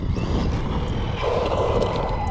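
A Team Corally Syncro RC buggy drives over wet grass, its electric motor giving a loud, steady whine that holds close throughout and rises slightly toward the end.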